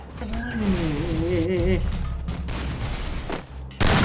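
Gunshots from a shooting video game, a few sharp cracks scattered under excited talking, ending in a louder blast.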